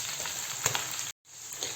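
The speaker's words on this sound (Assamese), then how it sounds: "এয়া আমি লৰাই আছোঁ ভালকৈ।" Pork stirred and frying in a pan, a steady close sizzle with a few soft stirring knocks, broken by a brief moment of silence.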